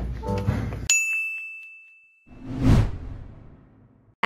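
A school bell gives a single bright ding that rings on for about a second, set between a whooshing rush of noise before it and a swelling whoosh after it.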